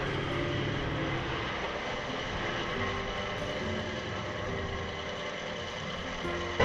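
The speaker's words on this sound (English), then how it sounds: "When he feels that, that's when he tries to drive himself out with the assistance of the winch." A Toyota 76 Series 4x4 strains out of a sand bog in the Simpson Desert with a winch, its engine a loud, steady droning rumble with a mechanical whine held throughout.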